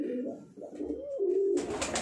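Rampuri pigeons coo close by in soft, rolling low calls, two or three phrases in quick succession, ending with a burst of rustling or wing noise.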